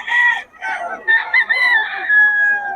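A rooster crows loudly and close, one long drawn-out cock-a-doodle-doo lasting a few seconds with no other sounds.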